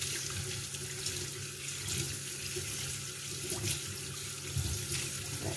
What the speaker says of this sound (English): The carrots are already peeled and I'm washing it.